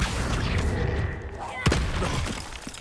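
A Confringo explosion spell in Hogwarts Legacy hits with a sudden loud boom partway through, rising out of dense, rumbling battle noise and fading back into the ongoing combat.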